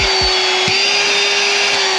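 A small Ryobi handheld dustbuster shop vac switched on, producing a loud, steady close motor whine and rushing air, with a few brief clicks at the start.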